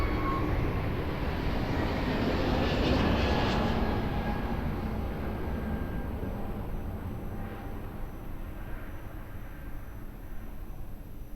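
A jet airliner roars steadily on its landing approach to runway 02 at Lisbon Airport, a broad loud rumble that slowly fades over several seconds, with no voices.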